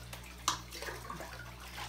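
Fresh water pours into a home aquarium over gravel, a faint continuous trickle and splash beneath a low steady hum, with one small splash near the start.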